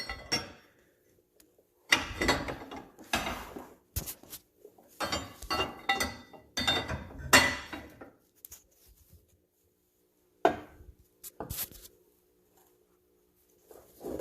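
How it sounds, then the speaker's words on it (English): A 7/8 wrench tightens a jam nut on an adjustable front track bar of a Jeep JL, making scattered metallic clicks and ratchety rattles in short bursts separated by quiet gaps. "Now you'll want to take an 7/8 wrench here to tighten up that jam nut."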